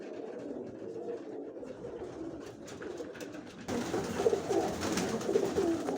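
Pigeons coo softly nearby, low rolling calls repeating over a steady outdoor background hum that gets louder partway through.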